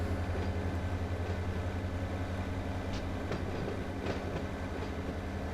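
In the Run 8 train simulator game, a freight railroad car rolls along the track at low speed with a steady low rumble and occasional faint clicks of wheels over rail joints, with no talking.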